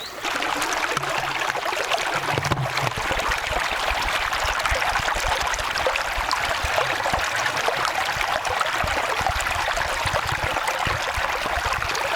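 A mountain stream runs down from the Siebengebirge toward the Rhine, a steady, full rush of water that stays close and continuous with no pauses and no voices.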